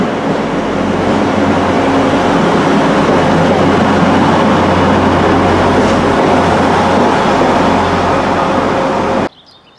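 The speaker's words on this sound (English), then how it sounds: "Here comes the 1956 Transport for Wales service to Cwmbran." Transport for Wales Class 175 train arriving at a station on a service to Cwmbran, a loud, steady diesel rumble and rolling wheel noise up close, continuous for about nine seconds before ending sharply.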